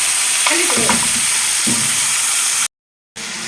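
Hot garlic taqliya for Egyptian fatta sauce sizzles loudly and steadily, broken by a sharp hissing burst as it hits the sauce, with a brief total silence before the sizzle resumes.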